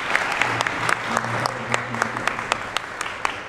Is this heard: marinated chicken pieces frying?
no